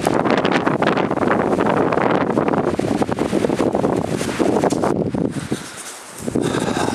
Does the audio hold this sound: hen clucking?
no